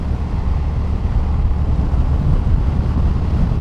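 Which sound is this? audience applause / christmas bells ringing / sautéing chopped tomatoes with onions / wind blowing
wind blowing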